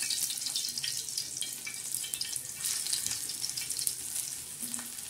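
Gram-flour vadas frying in hot oil give a steady, close hiss and crackle that carries evenly through the whole stretch, with no voices over it.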